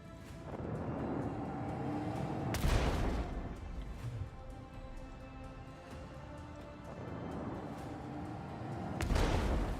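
Torpedo strikes in the space combat of the video game Rogue Trader, two heavy booming blasts a few seconds apart, with a rumbling, crackling wash of fire and debris sustained between them.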